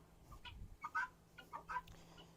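Buff Orpington chickens in a coop give a few soft, quiet clucks in short bursts, faint and close, with a low steady hum underneath.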